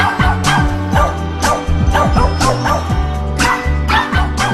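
A dog barks and yips repeatedly at close range, loud and excited, with whimpering between barks.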